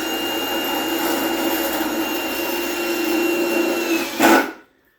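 Power drill whining steadily as it drives self-tapping screws into aluminum parts of a handmade high banker and trommel spray bar system, close and continuous, rising in a short final burst before stopping.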